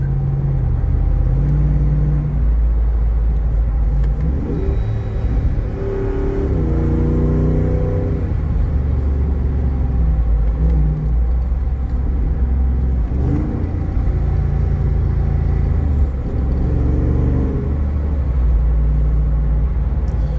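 A Jeep engine revs and accelerates with a deep, steady rumble, loud and close, rising in pitch as it pulls hard.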